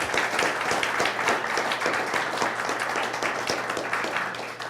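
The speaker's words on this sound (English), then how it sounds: "How about a round of applause for all of our semifinalists?" Audience clapping for pitch competition semifinalists at a beer industry live event, a steady dense round of applause filling the whole stretch at even loudness, with faint voices mixed in.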